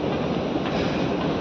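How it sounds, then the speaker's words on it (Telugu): Metro train in Qatar at a station, a loud continuous rumble of carriages with faint clattering, heard close without talk. "ఇక మెట్రో దిగేసిన, మెట్రో స్టేషన్లో."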